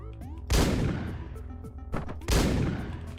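Gunfire in the video game Hotline Miami: two loud, close blasts about two seconds apart, each with a long crackling decay over a game soundtrack.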